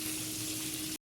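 Potatoes fry in a hot pan with a loud, close, steady sizzle that carries without a break for about a second and then cuts off abruptly into silence.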